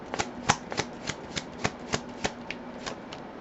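Tarot cards being shuffled in quick succession, about a dozen crisp riffling snaps in an even rhythm, close and clear with no speech.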